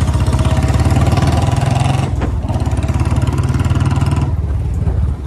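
A Royal Enfield Bullet motorcycle engine idles nearby with a steady, loud low thump that holds a regular beat throughout, with no voices over it.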